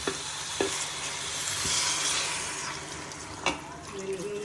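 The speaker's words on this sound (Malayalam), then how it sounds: "ഇനി ഇതിൽ ചൂടുവെള്ളം ഒഴിച്ചു കൊടുക്കണം." Hot water pours steadily into a pan of chicken curry, hissing and bubbling, with a couple of sharp clinks along the way.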